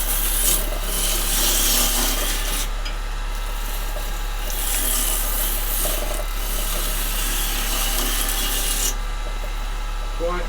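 A wood lathe spins a log during roughing down, giving a steady broadband scraping and rasping with a constant low motor hum and periodic surges as the tool cuts, loud and close.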